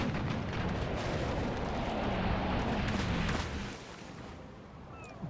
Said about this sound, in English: It's turned to put some chain shot into those masts.